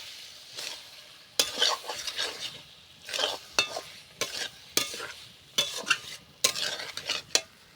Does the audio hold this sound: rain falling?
no